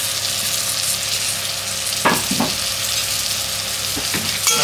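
Tomato and slit green chillies fry and get stirred in a pan, a steady loud sizzle with a couple of scraping stirs breaking through, close and without voices.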